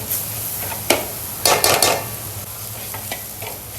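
Spice masala roasting in a pan for a wild chai vine vegetable dish, with steady dry sizzling and a few sharp scraping stirs of a spoon against the pan, close and clear with no talk.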